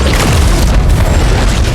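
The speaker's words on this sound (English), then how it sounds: "With a loud bang, the gas exploded" Gas explodes with a single loud, deep boom in an animated Marvel action scene, set off by a metal necklace heating in a microwave. The blast fills the whole moment with dense rumbling and is heard alone, with no talking.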